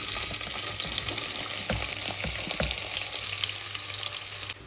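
Sliced onions sizzle and fry in hot oil for biryani, sometimes stirred. The crackle is steady and close, with no talk over it.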